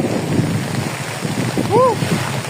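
Strong typhoon wind roars and buffets the microphone in heavy gusts, with a brief voice calling out partway through.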